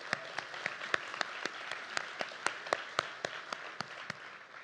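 Audience at a leadership luncheon clapping, a thin, fairly quiet applause with distinct individual claps in an even rhythm, a few hands rather than a large crowd, no talk.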